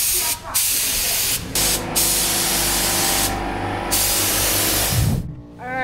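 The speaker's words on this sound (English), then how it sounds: "do a little test spray on the plastic back here" A loud hissing aerosol spray paint comes in long continuous bursts with short pauses between, sprayed as a test onto plastic close by, while a voice talks faintly underneath.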